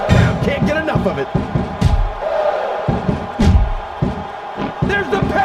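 A wrestling arena crowd roars and cheers during a match, a dense and continuous loud wall of noise broken by sharp slams and impacts, with a commentator talking over it.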